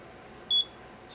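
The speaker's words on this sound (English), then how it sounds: "hold it till it beeps" A digital height gage gives a single short, clear electronic beep as its probe touches the surface of a bore in a machine shop, sounding alone over faint background hiss.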